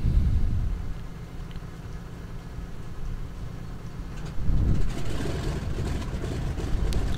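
The right engine of a Douglas DC-3 starts up in Flight Simulator X. A low, close rumbling drone turns rougher and louder after a few seconds, then holds steady.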